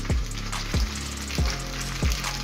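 Shrimp scampi with pasta and broccoli sautés in a pan, giving a steady sizzle broken by four dull, regular knocks of a utensil against the pan.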